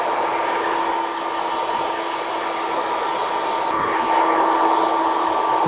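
A hair dryer runs continuously at high speed and high heat while drying a medium-length haircut, giving a loud, steady close-up whoosh with a constant whine that barely changes throughout.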